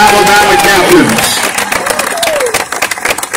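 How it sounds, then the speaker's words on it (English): Crowd applause and cheering for the 2019 and 2020 University of Alabama football captains at the 2021 A-Day spring game in a stadium, a broad sustained roar of clapping with a public-address voice ringing over it at the start. "how about another round of applause for the 2019 and 2020 University of Alabama captains"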